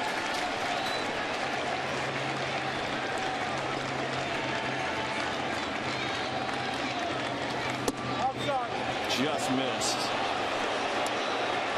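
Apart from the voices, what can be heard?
baseball stadium crowd reacting displeased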